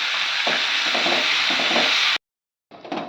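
Chopped tomatoes and onions with a pinch of salt fry in a pan, sizzling loudly with soft stirring thumps, then a short silent break before the sizzle returns.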